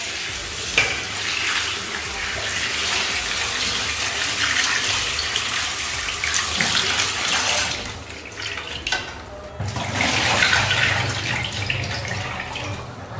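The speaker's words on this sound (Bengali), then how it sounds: "মাছগুলো ধুয়ে নিচ্ছি আমি," Tap water runs steadily over fish being washed in a home kitchen, splashing and trickling continuously, briefly dropping off near the end before gushing again.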